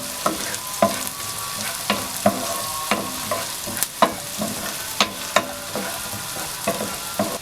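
Chopped onion sautés in butter in a pan for butter chicken, giving a steady sizzle broken by regular, sharp spoon scrapes and taps against the pan.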